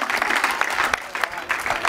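Steady applause from a group of people at a football academy's anniversary ceremony, a dense patter of clapping that holds throughout with small bursts, fairly close.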